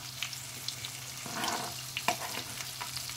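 Coriander fritters (kothimbir vadi) sizzle and spit in hot oil in a pan as they are flipped with a slotted spoon, a steady near fry broken by a few sharp pops and scrapes.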